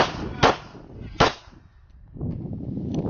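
A pistol fired at a shooting range after a squib load was cleared from its barrel: two sharp, loud shots under a second apart, followed by low background noise.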